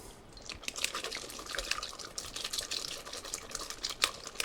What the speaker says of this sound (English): we pass our sauce through a conical strainer, not a chinois, so it's got some texture.